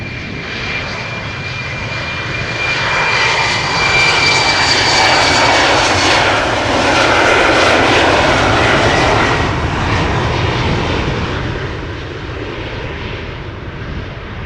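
A KLM Embraer 190 departing for Dublin roars steadily at close range, its engine noise swelling to a peak mid-pass and then easing slightly, with no voices.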